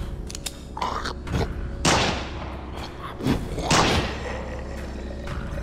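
Gunshots in the video game Remorse: The List, a few sharp loud reports spaced apart, each with a booming tail, over a low steady game ambience with no talk.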